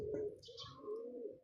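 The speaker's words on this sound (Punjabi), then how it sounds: "ਕਾਲਾ ਚੀਨਾ ਕਬੂਤਰ ਆ" A black Chinese pigeon gives soft, low cooing close by, two drawn-out notes with a brief higher chirp between them, faint and alone.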